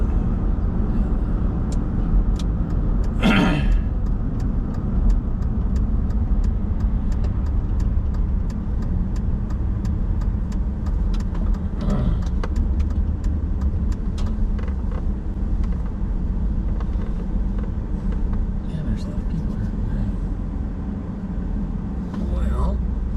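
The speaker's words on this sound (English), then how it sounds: "Look at all the traffic up there" Road traffic passing on a city street near a damaged bridge: a constant loud rumble of cars, with a couple of louder vehicle passes and brief hisses, while people talk over it.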